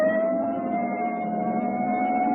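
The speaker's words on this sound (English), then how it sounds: "Hit the siren." A loud, sustained police car siren wail with a steady, slowly rising tone, heard close and continuous with no talking, from a 1949 Dragnet radio drama.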